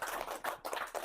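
Audience applause at the close of a televised talk-show discussion on agriculture and youth, a dense, steady wash of many hands clapping at close range, with slight surges in intensity and no speech over it.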